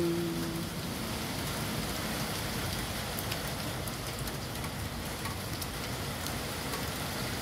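Steady heavy rainfall with wind, a dense, even hiss of drops hitting surfaces that continues unbroken and fairly close, with no voices.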